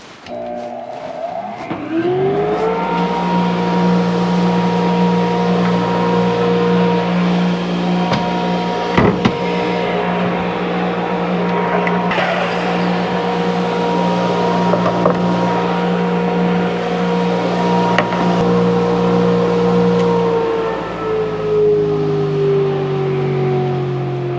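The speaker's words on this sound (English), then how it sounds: "So I'm going to turn on the dust collector and go ahead and make some cuts." A dust collector hums steadily while a saw runs, cutting wood into equal portions; a loud, sustained motor drone with a strong low tone holds throughout, with brief changes in pitch as the blade works, no voices.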